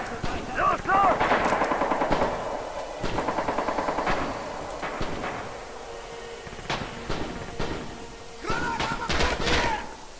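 Gunfire in the World War II shooter Red Orchestra 2, with rapid bursts and scattered sharp shots, some loud and near, others more distant, with a voice talking over parts of it.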